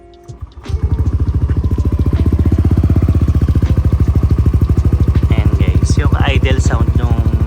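A Yamaha NMAX V3 scooter with stock CVT parts sits at idle after starting up, its engine thumping in a fast, even, loud putter close by. A few brief chirpy noises come in near the end.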